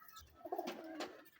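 Pigeons of a field-flying breed coo softly nearby, a couple of low rolling coos over faint background ambience.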